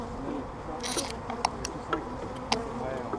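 Honeybees flying around an opened hive during a spring inspection after a swarm transfer, a soft steady insect hum with faint scattered ticks and buzzes close by, no voices.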